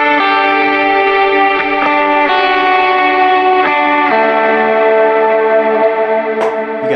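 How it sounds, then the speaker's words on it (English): Direct-recorded electric guitar with heavy in-the-box plugin reverb, sustained chords ringing out with long washy tails, changing every second or so, loud and steady throughout. "And then heavy verb from in the box."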